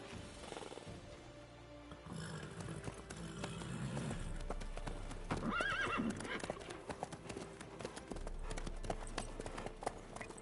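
Horse hooves clip-clop in The Witcher video game, a steady rhythmic trot close by with a horse whinny partway through, over ambient game sounds and music.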